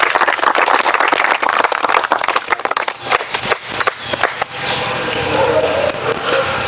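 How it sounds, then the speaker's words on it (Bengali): Loud, sustained applause from a crowd at a physical training academy event celebrating army recruits, a dense crackling roar of hands that slackens midway and gives way to a steadier background wash. "একবার জোরদার তালিয়া।"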